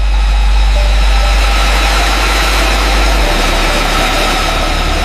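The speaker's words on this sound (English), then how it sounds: "The sound of the jet's engine starting to roar." A loud, steady jet engine roar with a deep rumble and high whine, building to a constant drone with no voices.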